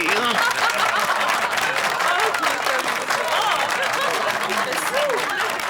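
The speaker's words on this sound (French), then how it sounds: "On peut l'applaudir." Applause from a television studio audience greets the featured guest on a children's show, a dense, sustained patter of clapping with scattered chuckles and voices mixed in.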